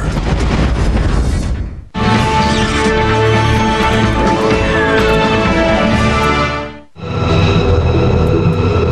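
A U.S. Air Force B-2 stealth bomber in flight, a loud, steady roaring jet drone with a rising and falling whine, cut by two brief silent gaps and resuming each time.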